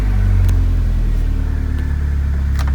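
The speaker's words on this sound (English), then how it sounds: "Start the car," A Land Rover Freelander 1 engine starts and settles into a loud, steady low rumble close by, with the idle running on throughout.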